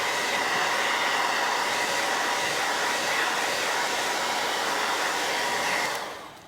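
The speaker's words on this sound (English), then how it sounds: "A blow dry." A hair dryer blows steadily and loudly to dry paint on a wooden sign, a constant close whoosh that holds for about six seconds and then winds down as it switches off. No voices are heard.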